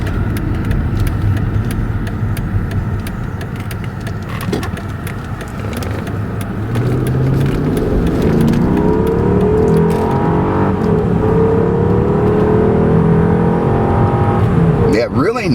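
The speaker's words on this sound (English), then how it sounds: "nice engine sound, nice shifting as well" A Mercedes-Benz W220 S-Class engine drones steadily from inside the cabin, climbing in pitch through several gear changes as it accelerates; a voice talks over it.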